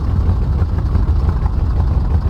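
A Focke-Wulf FW 190 A-8 radial engine idles in a flight simulator game, a loud, steady, low rumbling drone with an even, slightly pulsing texture throughout.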